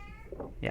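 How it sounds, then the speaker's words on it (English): A short cat meow sounds near the end of a brief moment in the ship-exploration game Return of the Obra Dinn, fairly faint over quiet background, with a person speaking a single word just before it. "And that's the cat."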